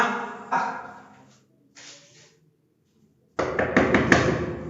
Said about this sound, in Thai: เสียงเคาะ เสียงเคาะกลับมา